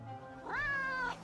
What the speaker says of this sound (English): cat is not happy.